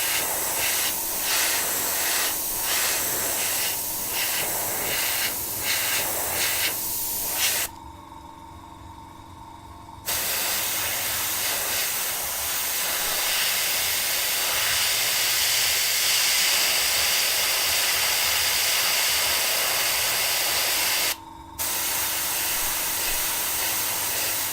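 Metallic base paint is sprayed onto a Tamiya Volvo FH12 1/14 scale RC truck body in a loud, close, continuous hiss. Short bursts come first, then long sustained passes broken by two brief pauses.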